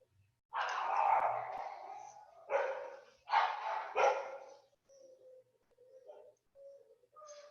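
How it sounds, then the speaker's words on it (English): A dog barks excitedly after someone rings the doorbell indoors, a loud nearby burst of several rapid barks followed by softer whines and yips. "You can hear my dog going crazy."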